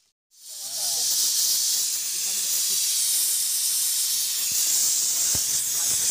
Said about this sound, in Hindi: यह पहली सीटी तो बजा दी प्रेशर कुकर ने